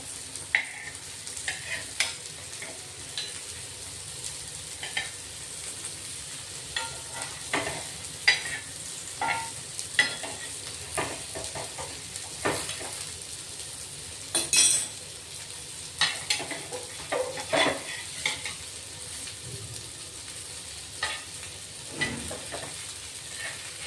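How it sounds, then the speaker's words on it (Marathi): A breakfast fries as its underside is toasted in a pan, with a steady soft sizzle and repeated clinks and scrapes of a spatula turning it, close and without talk. "आता खालची बाजू शेकतोय आपण"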